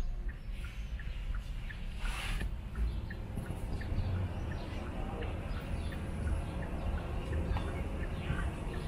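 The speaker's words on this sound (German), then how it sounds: "Das Einzige, was man hört, ist die Warnblinkanlage." Hazard warning lights tick steadily inside a quiet electric vehicle during the eMobility Parade in Berlin, a soft, regular clicking pattern faintly heard over low road rumble and a few chirps.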